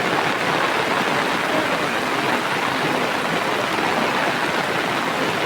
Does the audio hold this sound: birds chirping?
no